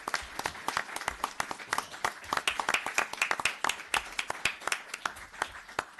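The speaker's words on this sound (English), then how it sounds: "I also want another round of applause for the Yorktown Police Department Color Guard" A round of applause at a town board meeting honoring the Yorktown Police Department Color Guard: many hands clapping in a lively, crisp patter, moderately distant and without talk over it.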